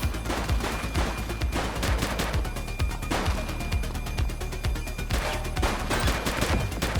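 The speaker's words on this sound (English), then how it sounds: "She's shooting!" Rapid bursts of gunfire from a suspect in the video game The Precinct, dense overlapping shots and automatic fire rattling loudly and continuously throughout.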